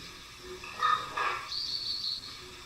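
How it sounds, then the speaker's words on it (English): Birds chirp in an eerie analog-horror scene, a few short, thin calls followed by a higher trilling twitter, moderately faint over a quiet hiss of background ambience. "It's like birds and stuff."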